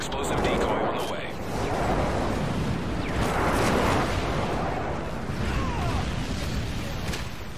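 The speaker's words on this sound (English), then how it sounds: "Delta airstrike on the way." Airstrike explosions rumble through a Call of Duty Modern Warfare 3 multiplayer match on the Lockdown map, several heavy overlapping booms swelling and fading over a constant loud roar, with battle noise and voices mixed in.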